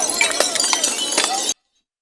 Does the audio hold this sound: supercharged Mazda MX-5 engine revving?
no